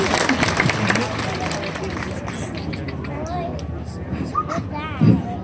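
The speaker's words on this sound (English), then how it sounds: "let's have one final round of applause for Sancho, the Joffrey's cat" Crowd at a Renaissance Faire cat show clapping for a performing cat, the applause fading gradually amid outdoor hubbub and babble, with a voice speaking near the end.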